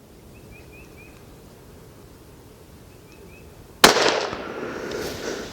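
A single sharp rifle shot from a Savage 93 in .17 HMR fired at a paper target at the range, a loud crack near the end after quiet outdoor ambience with faint chirps, followed by a lingering echo.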